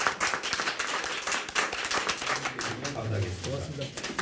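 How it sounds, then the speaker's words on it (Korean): Applause welcoming a guest at a Korean political party event, a burst of clapping hands mixed with voices talking over it throughout. "박수로 환영합니다."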